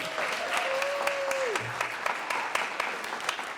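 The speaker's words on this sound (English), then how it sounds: "Let's give Auden applause." A congregation applauds a young girl, steady clapping throughout with a brief sung or whistled tone gliding over the first part and faint voices mixed in.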